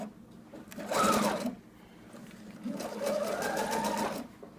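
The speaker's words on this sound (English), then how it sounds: "And we're going to do the exact same thing. And stitch it parallel." A sewing machine stitches a straight parallel row across a basted prairie apron, two close, steady bursts of rapid needle chatter separated by a brief pause, with no talking.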